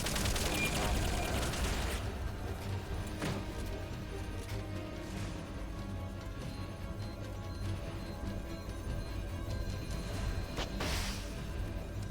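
Gunfire in the video game Metal Gear Solid: Peace Walker: a burst of shots at the start, then scattered single cracks over a steady background of in-game sound and music.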